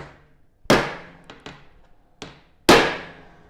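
Hammer tapping a part onto a nest box board during assembly, giving sharp, close knocks in an uneven run, with two loud blows and several lighter taps and no talk.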